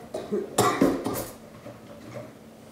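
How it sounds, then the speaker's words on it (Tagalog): A single harsh cough bursts out close by, followed by quiet room sounds and a faint clink. "pasensya na kayo sa ubo ko"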